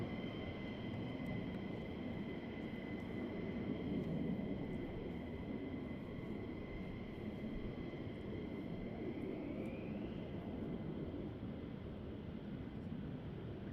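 F-15 jets taxiing at RAF Lakenheath give a steady, distant roar with a sustained engine whine that slowly rises in pitch near the end, heard alone without talk.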